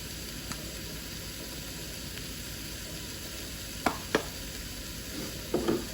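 Steady, hissing sizzle of chicken frying in a pan, with a few sharp clicks and scrapes of a utensil against the pan.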